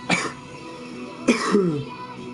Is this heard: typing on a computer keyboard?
no